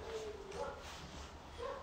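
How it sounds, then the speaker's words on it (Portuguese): Faint street dogs barking and yipping in the distance, a few short calls over a quiet background. "O que que os cachorros da rua estão falando?"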